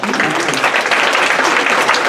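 Loud, dense applause from a room of attendees at a college admissions evening, welcoming two student volunteers, a continuous close wash of clapping.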